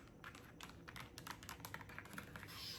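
Quiet, soft typing on a computer keyboard, a close run of light irregular key taps with brief pauses, alone and without talking.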